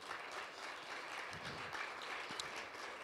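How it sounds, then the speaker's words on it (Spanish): Steady applause from a church congregation, a dense wash of clapping that holds evenly throughout at moderate distance. "Un fuerte aplauso al Señor por nuestras ofrendas."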